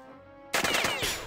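Sudden close bursts of enemy gunfire in the tactical game Jagged Alliance 2, a rapid volley of sharp cracks that follows a quiet moment of low game ambience.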